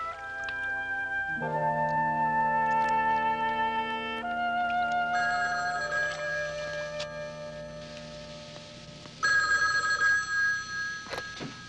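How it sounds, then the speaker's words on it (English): A telephone in a doctor's office rings with steady, bright, sustained electronic tones that shift in pitch over several seconds, close and prominent with no talking. "Jolie, phone."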